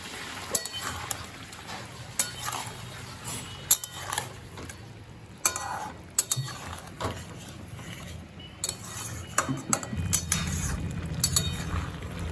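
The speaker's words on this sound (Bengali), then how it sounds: "চিনি ভালো করে মিশিয়ে দিয়েছি।" A spoon clinks and scrapes against a pot as sugar is stirred into a vegetable curry with lentil fritters, in irregular close metallic taps and rattles.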